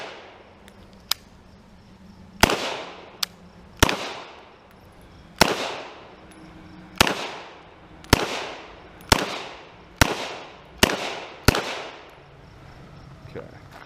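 Shots from a 1917 Mauser C96 Broomhandle 7.63x25 pistol crack at an outdoor range, about a dozen sharp, loud reports at irregular intervals, each with a short ringing decay and a few quieter pops in between.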